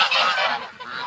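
A domestic goose in a farm yard lets out a loud, close, harsh honk that lasts about a second, with no voices around it.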